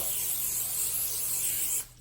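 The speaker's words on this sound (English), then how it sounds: "So the first thing I do is I spray the pan itself." A steady, close hiss of aerosol cooking spray onto a pan lasting nearly two seconds, then cutting off abruptly.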